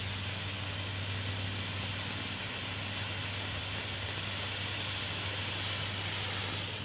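A homemade smoke bomb burns with a steady, broad hiss, constant and unbroken at moderate loudness, with a faint low hum beneath and no voices.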